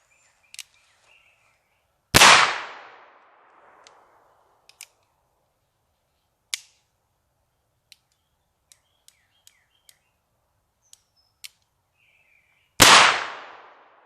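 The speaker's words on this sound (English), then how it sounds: "I got the last 2 rounds capped up, ready to shoot." Two loud, sharp shots from a black powder percussion cap gun loaded with cast lead balls and commercial CCI caps, fired about ten seconds apart, with faint metallic clicks and handling ticks in between.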